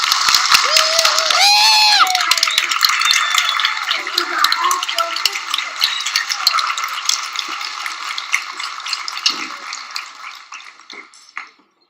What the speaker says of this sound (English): Let's give her a round of applause for what she is going to share with us tonight